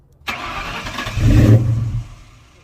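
A Ford Mustang GT with Flowmaster exhaust cranks and fires up, swelling into a loud, deep rumbling burst before settling back toward a quieter idle, close and alone.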